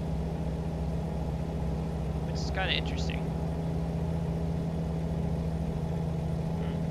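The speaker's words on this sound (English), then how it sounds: "The engine brake sounds different," A Volvo truck's engine brake in American Truck Simulator gives a steady, loud low drone with a constant hum running through the whole stretch, while someone talks briefly over it.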